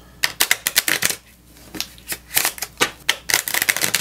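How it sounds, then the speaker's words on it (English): A deck of cards is shuffled up close, with quick flurries of crisp riffling snaps, a short pause, then more rapid riffles. "Cards are shuffled"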